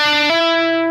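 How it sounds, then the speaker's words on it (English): Distorted lead electric guitar from a song plays slowly alone, one sustained note sliding to a higher held note, loud and close with no other sound. "then you hear the lead guitar come in all by itself"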